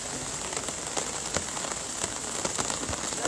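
Steady outdoor rain patters on a hard surface, a dense hiss of drops with scattered louder splats and no voices.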